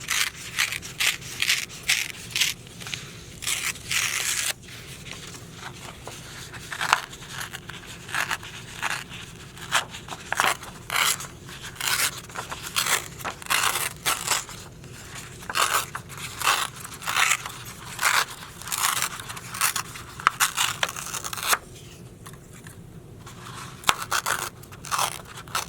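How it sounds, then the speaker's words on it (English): Paper being torn by hand and crumpled while making a craft owl, close crackling rips and crunches repeating in irregular bursts throughout with short pauses. "I'm trying not to tear a lot of paper off"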